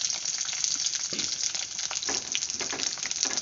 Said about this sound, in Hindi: और साथ ही साथ मैं आलू को भी डाल देती हूँ ताकि प्याज के साथ साथ आलू भी मेरा भून जाए